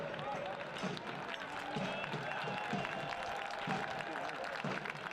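Fans applauding and cheering at a soccer match between Hartford Athletic and Philadelphia Union II, steady crowd clapping spread across the stands, heard from a distance beneath a commentator's voice.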